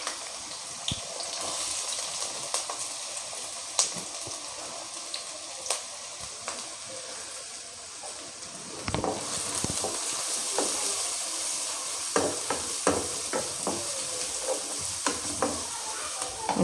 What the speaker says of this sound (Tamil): வெங்காயம் கொஞ்சம் நல்லா வதங்கட்டும்.